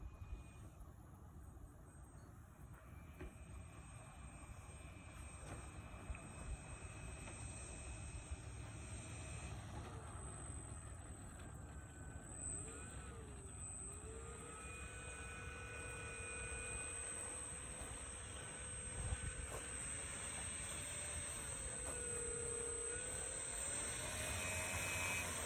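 An RC model T-6 Texan II airplane, converted from a Blackhorse PC-9, taxis slowly on the ground after its maiden flight, its engine a steady whining drone with pitch shifting gently, continuous and fairly near, no voices.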